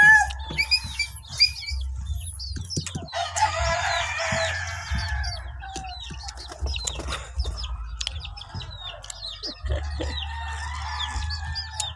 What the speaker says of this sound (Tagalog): Dagan kayong manok.